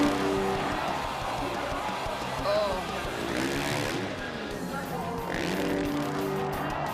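Freestyle motocross motorcycle engine revving hard through a rotation, a continuous high-pitched whine that rises and falls over a crowd and ambient noise, with commentary voices underneath.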